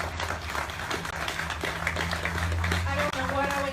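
Audience applause at an International Overdose Awareness Day gathering in Tennessee, a dense round of clapping running throughout, mixed with crowd noise and a steady hum, with a voice or two briefly audible.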